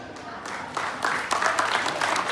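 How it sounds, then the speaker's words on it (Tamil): An audience claps at a birthday celebration, the applause swelling after a quieter start and holding steady to the end, with voices mixed into the crowd. "நாம் கைத்தட்டி மகிழ்ச்சியுடன் அவர் வாழ்த்தை சொல்ல வேண்டும்."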